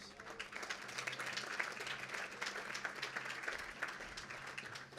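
Audience applause for county officials such as the treasurer and clerk at a public event, a steady wash of many hands clapping that holds for several seconds.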